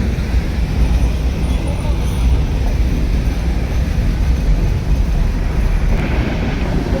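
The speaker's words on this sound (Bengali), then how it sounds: "ট্রেন কিন্তু ভালো স্পিডে চলছে" Ooty toy train running from Udagamandalam down to Mettupalayam past tea gardens, heard as a steady, close, loud rumble of wheels and carriage that stays even throughout with no clear break.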